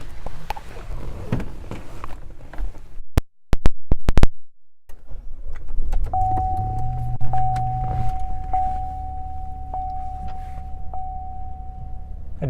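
Oversized moonroof motor of a 2016 Buick LaCrosse running as the roof opens, a steady electric whine with a sustained hum lasting several seconds after some clicks and clunks inside the cabin.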